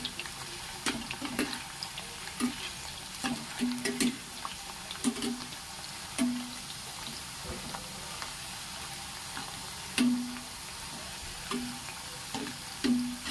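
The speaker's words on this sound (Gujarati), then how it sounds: "બટેટાની ચિપ્સને તળી લેવાની છે।" Potato chips fry in hot oil while being turned with a slotted spoon, a steady soft sizzle broken by gentle stirring scrapes and bubbling bursts.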